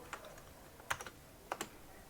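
A handful of quiet, isolated keystrokes on a computer keyboard hooked to a MiSTer-based Amiga 3000 build; the clicks come in small clusters in a still room.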